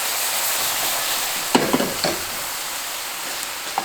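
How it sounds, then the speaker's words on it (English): Tofu is stirred in a pan of sizzling teriyaki sauce, with a constant loud hiss broken by a few sharp scrapes and knocks from the utensil. "So you just wanna start moving them around."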